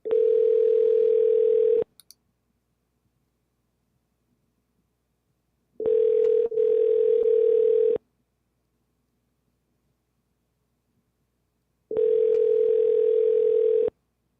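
A steady telephone dial tone heard while placing a call from a dispatch desk, sounding in three separate bursts of about two seconds each, separated by long silent gaps, clear and alone.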